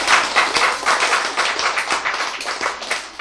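An audience at a sermon-style lecture claps steadily for about three seconds, a dense, continuous patter of many hands, close and fairly loud, with no talk over it.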